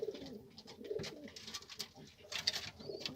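Bango pigeons, a male and female pair with a chick, cooing: soft, low, repeated throaty coos close by, with a few faint higher chirps mixed in.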